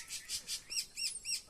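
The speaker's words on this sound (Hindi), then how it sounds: "एक चिड़िया मिली थी और ये रही" A small bird chirps outdoors near a village, repeated high tweets in a quick, steady rhythm, fairly close and moderately loud, with no talk.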